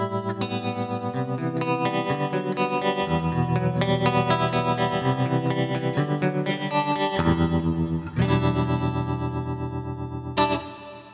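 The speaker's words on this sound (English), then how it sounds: "Quite a nice and lush reverb, I would say." Electric guitar chords and melodic lines played through a Joyo DC15S practice amp's lush, spacious reverb, notes ringing out and blending into a wide wash of sound.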